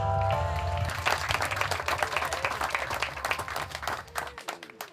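An audience at an outdoor Memorial Day ceremony bursts into clapping as a sung song's final note fades, the applause rising quickly and then thinning out toward the end.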